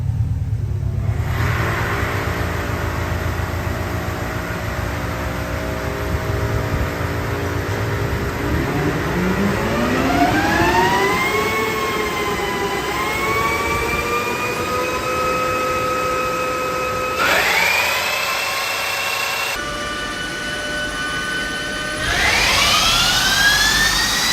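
2024 Tesla Model 3 Performance being run on a dyno, a loud electric motor whine sweeping upward in pitch through repeated pulls, tones rising, dropping back and climbing again, with no talk.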